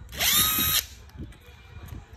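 A power drill with a wobbly, loose chuck runs in a loud, steady whine for under a second, then cuts off, leaving only low background rumble.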